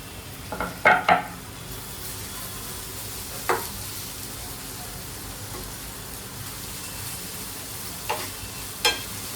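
Two slit green chillies fry in a pan over a low flame, a soft continuous sizzle with a few louder crackles and pops scattered through it.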